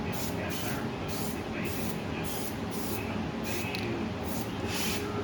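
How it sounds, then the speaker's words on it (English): Spray adhesive misted onto the firewall of a 1961 Chevrolet Impala during dash reassembly: a continuous close hiss with regular pulsing bursts over steady background noise. "I'm just going to mist a little on here, mist a little on the firewall"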